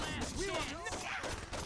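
Rapid, dense bursts of sawed-off shotgun fire in the video game Saints Row blend into a loud, continuous barrage, with a voice speaking over the shooting.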